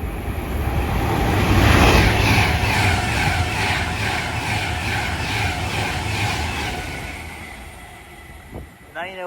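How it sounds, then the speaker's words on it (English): An Avanti service from Glasgow Central to London Euston rushes through Bletchley station, a loud broadband roar that swells, holds, then fades toward the end as a brief tonal squeal rises. "about to pass through is going to be an Avanti service from Glasgow Central to London Euston"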